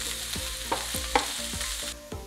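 Sliced onion and garlic fry in a pan, with a steady sizzle under repeated scraping strokes of a spatula stirring roughly every half second, close and moderately loud.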